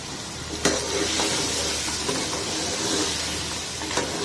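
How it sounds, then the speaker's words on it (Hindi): Cooked trotters fry in a little masala in a pan, producing a continuous close sizzle and hiss with a couple of sharp utensil clinks. "थोड़े से मसाले में ही भून लेती हूँ मैं"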